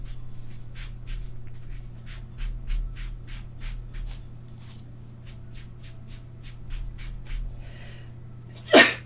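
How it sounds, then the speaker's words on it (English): A single sharp sneeze bursts out near the end, preceded by soft rhythmic pastel strokes scratching on paper with a steady low hum underneath. "Oh, just sneezed."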